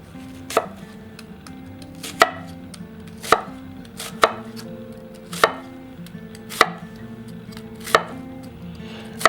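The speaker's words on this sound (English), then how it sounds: "I'm actually having a much easier time doing the initial cuts on the onion than the Moritaka" An onion is chopped with a Victorinox Fibrox 8-inch chef's knife: sharp, evenly spaced knife strikes hit the board about once a second, close and clear, with no talking.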